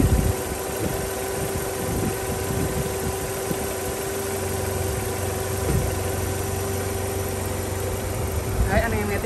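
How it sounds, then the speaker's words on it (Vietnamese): A 2007 Chevrolet Captiva with manual transmission idles steadily, a low even engine hum with faint vibration running through the whole stretch, near and unbroken. "anh em nghe tiếng máy, em cho anh em nghe tiếng máy không? Rất êm nha, máy nổ rất là êm."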